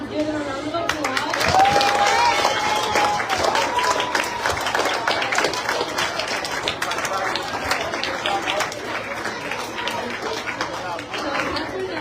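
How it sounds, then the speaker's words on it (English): Audience applause after a student presentation on a school senior trip, a roomful of clapping lasting over ten seconds with chatter and voices mixed in. "let's give them a round of applause."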